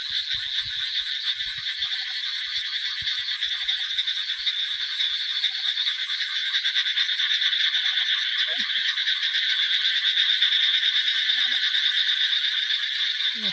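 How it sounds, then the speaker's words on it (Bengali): A dense chorus of frogs croaks at night near water, a loud, continuous buzzing trill that runs throughout, with faint rustling and a few soft knocks from people moving nearby. "এত ব্যাঙের আওয়াজ।"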